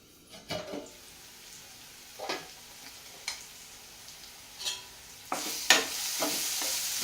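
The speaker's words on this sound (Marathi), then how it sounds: "चला तर आता डाळीला फोडणी देऊया" Soft stirring clinks give way to a few sharp bursts of oil sizzling as spices are tempered for dal, quiet and close, with no talking.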